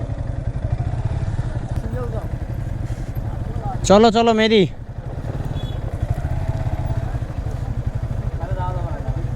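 A motorcycle engine idles and putters close by as the bike is ridden onto a boat for the first time, a low steady drone with voices talking over it and a brief sharp squeal in the middle.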